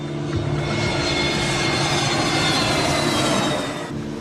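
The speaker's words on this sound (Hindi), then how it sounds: "मुंबई के हवाई अड्डे से विमान रनवे पर दौड़ता हुआ उड़ान भरता है।" An airplane accelerating down the runway and taking off from Mumbai airport, a loud, continuous jet roar that holds steady and eases off slightly at the end.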